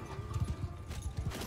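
A horse in the Bannerlord medieval battle game clops along, with quick hoof thuds in an uneven gallop rhythm over a busy battlefield background.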